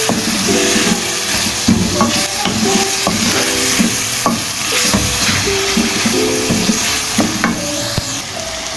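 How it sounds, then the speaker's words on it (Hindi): Black chickpeas frying in a pan with ground dried mango powder, a loud continuous sizzle with repeated clinking spoon strokes against the pan in an uneven stirring rhythm, close and alone. "चने हमारे ऑलमोस्ट फ्राई हो गए हैं"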